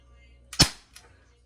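A single sharp BB gun shot fired at a homemade target during accuracy practice, one crisp snap followed by a fainter knock, heard alone against quiet.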